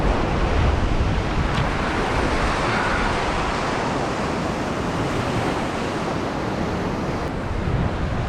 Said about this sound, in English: You can actually see the gully where these waves are breaking.